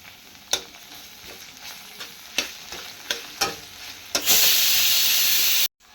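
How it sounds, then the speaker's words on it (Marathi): Crushed garlic hits hot oil: a few sharp spoon taps and soft sizzling first, then a sudden loud, steady hiss of frying that runs for over a second before cutting off abruptly. "त्यामध्येच हे कुटून घेतलेलं लसूण टाकून घेणार आहे मी"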